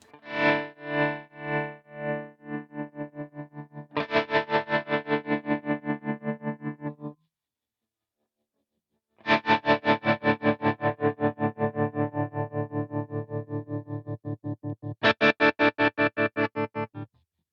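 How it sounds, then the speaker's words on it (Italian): A distorted electric guitar pulses steadily through a tremolo built on a volume block of a Fractal Audio Axe FX, playing loud rhythmic chopped phrases with a short silent gap midway. "In questo modo ho già creato un effetto tremolo."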